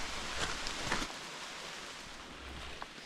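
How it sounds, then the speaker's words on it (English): Rain falls in woodland, a soft, steady hiss of drops on leaves and foliage under light wind, faint and continuous without any talk. "So I'm in the woods, sheltered from the rain"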